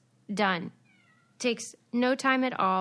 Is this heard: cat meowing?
yes